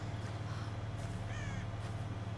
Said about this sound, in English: There's birds. You could eat those.